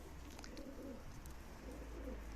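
Pigeons cooing at a loft beneath netting, soft low repeated coos set against a faint constant background rumble, close but quiet.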